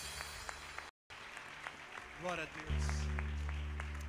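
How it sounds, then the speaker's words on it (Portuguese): A church congregation applauds at a Saturday worship service in a dense, continuous clatter of clapping, while someone speaks over it and music swells underneath. "Ela merece mais palma. Aplaude mais."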